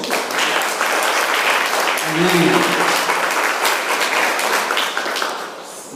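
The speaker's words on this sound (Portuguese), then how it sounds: "Podemos aplaudir Jesus?" A church congregation applauds continuously for several seconds, loud and close, as a voice calls out briefly in the middle.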